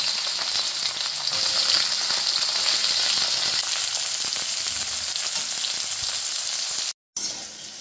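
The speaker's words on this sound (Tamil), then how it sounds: "இந்த மாதிரி நல்லா எண்ணெயில் பொரிச்சு வச்சுருக்கோம்." Bitter gourd fries in hot oil, giving a loud, steady sizzle throughout with faint stirring clinks. It breaks off for a moment near the end.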